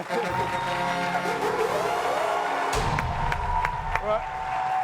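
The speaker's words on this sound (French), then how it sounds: "Mais on applaudit Willy Dombo." Studio audience on a French-language TV show applauds and cheers for a guest, a dense crowd roar filling the clip with a few sharp claps and whoops standing out, voices in the mix.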